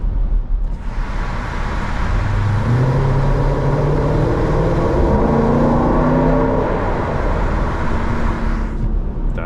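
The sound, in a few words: 2020 Jeep SRT accelerating in New York City traffic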